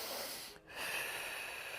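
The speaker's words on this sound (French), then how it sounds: "et toujours cette respiration" Controlled breath pushed through the nose and pursed lips while holding tension in a core exercise with heavy loads, a close, loud, sustained airy hiss with a brief pause before resuming.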